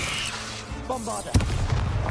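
A Bombarda spell detonating in Hogwarts Legacy, a sudden booming blast midway that rumbles on, set among game sound effects and a voice casting spells.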